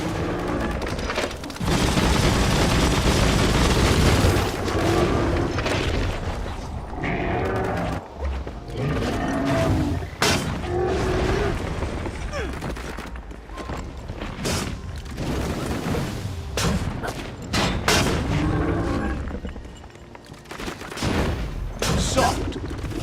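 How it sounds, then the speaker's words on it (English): Heavy gunfire fills a Biomutant video game battle, with dense overlapping bursts, booms and impacts sounding loud and continuous throughout, punctuated by sharp shot transients. "Bullets everywhere."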